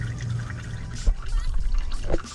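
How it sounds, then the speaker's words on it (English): Oil draining from a Dodge Challenger Scat Pack 6.4L 392 Hemi engine, pouring and trickling into a pan nearby, with a couple of louder splashy knocks partway through. "It's always best to let it drip out before you kind of remove it."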